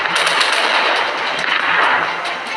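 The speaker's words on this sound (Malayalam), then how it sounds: "ഫസ്റ്റ് തന്നെ വെടിവെച്ച് തുടങ്ങി" Video game gunfire as a match opens, dense bursts of loud, rapid shots overlapping into a continuous crackling barrage with sharp individual reports.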